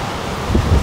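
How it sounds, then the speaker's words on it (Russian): Strong wind at a beach resort in Mui Ne, Vietnam buffets the microphone, a steady broad rush with heavier low gusts thumping in near the end. "Очень сильный ветер"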